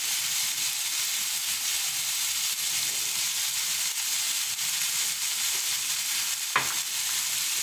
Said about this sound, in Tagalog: Yan, haluin.